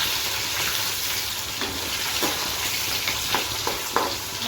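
Fish sizzles steadily in a wok as it is flipped, a close, even crackle of hot oil running throughout with faint scraping from a spatula.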